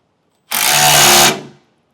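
A power tool runs for about a second, tightening 19 mm bolts on the side support brackets of a TorkLift SuperHitch Class V trailer hitch being installed on a 2018 Chevrolet. One steady whirring burst is heard close up, with no talking.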